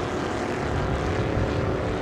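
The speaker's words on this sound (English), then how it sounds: "that plane is low. Look at that sucker." A low-flying propeller airplane roars overhead during a Memorial Day drive, a loud, steady broadband engine drone with a churning low rumble filling the whole stretch with no talk.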